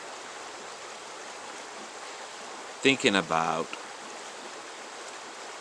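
Creek water flowing outdoors as a steady, even rush of broadband noise throughout, with someone speaking briefly over it.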